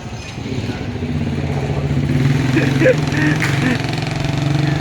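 A motorcycle engine running at a steady idle nearby in a residential area of Cavite, a continuous low rumble with faint background activity and no clear words.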